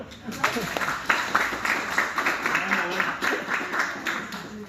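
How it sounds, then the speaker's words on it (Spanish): Applause from an audience at a basketball club talk in Bogotá, a steady patter of clapping holding for several seconds at moderate loudness, with voices mixed in. "¡Aplauso!"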